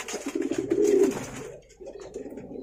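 A Javanese pigeon coos in courtship, a near, throaty rolling coo swelling for about a second before softer murmuring follows.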